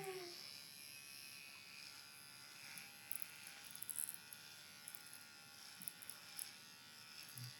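Electric hair clippers buzz steadily through a haircut at a barber's in Tanzania, a continuous close hum with brief louder bursts as the blades bite into hair, faint voices around.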